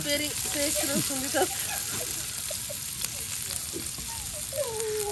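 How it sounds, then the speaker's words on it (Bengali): Onions fry in hot oil in a village kitchen, giving a continuous close sizzle while a voice talks over it throughout. "তেলের সাথে পেঁয়াজটা একদম ভাজা ভাজা করে নিচ্ছে"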